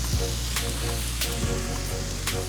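Seasoned chicken sizzles loudly on a Blackstone griddle, a dense continuous hiss with a few sharp scraping taps of a spatula as the meat is tossed; no talking.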